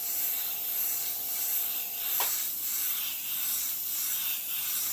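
A spray paint can hisses in a steady, soft, airy stream close by while painting a Harley, with one brief sharper puff midway.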